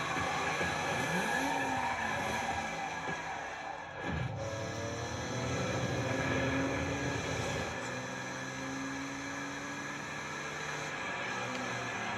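A car drifting in Forza Horizon 6, sustained engine drone with long tire squeals and skidding sweeps layered over steady game audio.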